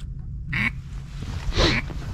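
Wild ducks quacking near a pond in Louisiana on the duck season opener: two distinct quacks, the second louder and longer, heard over a low steady background rumble.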